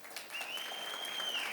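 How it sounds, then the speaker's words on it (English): Applause and cheering for a councilman-elect at a city council proclamation meeting, a short burst of clapping with a sustained high whistle over it, moderate and slightly distant. "Dominic, you bring your cheering section everywhere you go"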